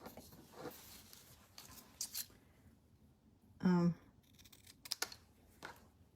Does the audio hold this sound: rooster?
no